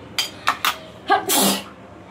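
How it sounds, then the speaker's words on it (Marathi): A person sneezes while a spicy masala tempering fries in oil: a few quick sharp intakes and bursts build up, then a loud, close full sneeze. "शिंक यायलाच हवी."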